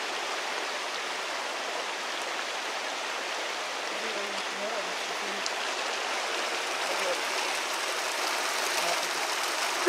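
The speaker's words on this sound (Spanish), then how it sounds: "Mire la cantidad de agua que lleva el canal de Santa Isabel" Continuous rushing water in the Santa Isabel canal, a broad steady hiss of flowing current heard from nearby, with no voices and little change throughout.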